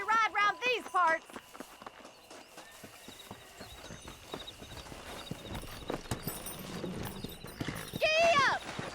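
Horse riding in the video game Red Dead Redemption, with rhythmic clip-clop hoofbeats and whinnying horses as a rider sets off. Voices talk over the hooves at the start and end.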